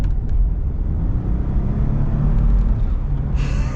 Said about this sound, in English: You get a little turbo blow off.